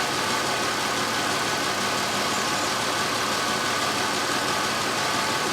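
A cold 2003 Chevrolet Impala engine with an intermittent high idle runs steadily at idle, a constant close, even mechanical drone with no pauses.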